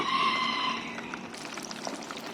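Fish sizzles steadily in hot oil as it fries toward golden, with a brighter hiss at first that settles into a softer crackle and spatter.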